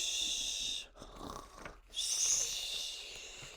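A person imitates a big bear snoring while telling a children's bedtime story, making long breathy, rasping snores with a short pause between them, close and fairly soft.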